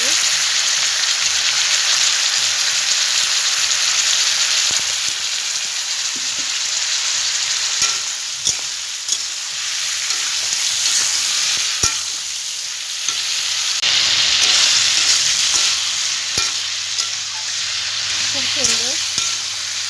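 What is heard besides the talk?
sautéing bottle gourd curry with lentils in a pan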